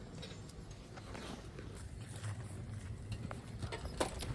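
Sweaty horses used for summertime logging walk along with steady, overlapping hoof clip-clops, fairly quiet and close in the open air, with no voices heard.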